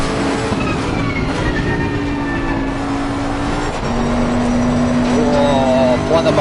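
A GT race car engine at Brands Hatch in Assetto Corsa Competizione, revving hard and steadily under acceleration with a droning, rising tone, loud and close throughout, a brief dip before climbing again.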